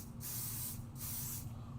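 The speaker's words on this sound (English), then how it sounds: "I'm going to hit it with some Pixie Spray" Pixie Spray misted onto a delicate stencil in two quick spritzes, each a soft, close hiss lasting about half a second, separated by a short pause against a quiet room.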